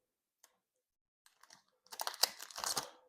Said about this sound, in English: Crack these damn cards open.